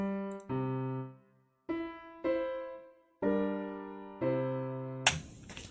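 Minor dominant chord cadence in jazz harmony played as a series of sustained, rich chords, six separate struck chords with pauses between some of them, each ringing and decaying, then a short noisy burst at the end, clear and alone.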